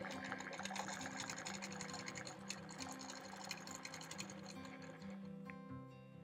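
A quilting sewing machine stitches continuously along a ditch in a compass medallion quilt, a steady close mechanical whir and rapid needle patter, fairly quiet with no talk.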